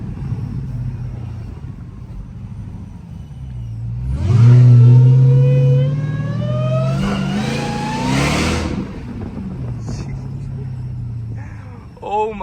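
A 1000hp Dodge Demon Charger running with no hood revs hard down a one-way street, its engine note climbing in a loud rising supercharger whine that peaks and then falls back toward idle.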